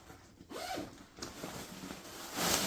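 A zipper on a Beis duffel bag being drawn open, a short rasping pull that builds toward the end with faint rustling of fabric, close and alone with no talk.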